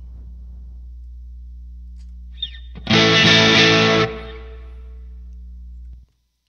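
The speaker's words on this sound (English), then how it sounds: "I don't know any guitar player that would want hum in their sound, but if you do, there you go" Steady low mains hum from a Line 6 Pod HD500 modeling a Fender Twin vibrato amp, joined by a brief burst of distorted guitar noise in the middle before the hum cuts off abruptly.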